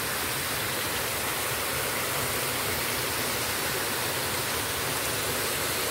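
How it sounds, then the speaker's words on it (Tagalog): Strong river water rushes steadily near a waterfall at Kabungahan, Barangay Alianza, San Fernando, Camarines Sur, a loud unbroken roar of flowing current with no voices. "Lakas ng tubig eh."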